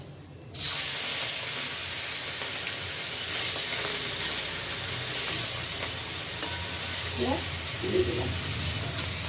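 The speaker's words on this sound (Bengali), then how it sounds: "আর যে মাছ আছে দিয়ে দিচ্ছি" Fish hits hot oil in a pan and sets off a sudden burst of loud sizzling, which then spits and hisses continuously for several seconds.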